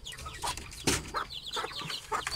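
Hens in a backyard flock clucking repeatedly in short, uneven bursts, fairly close and moderately loud, with no one talking over them.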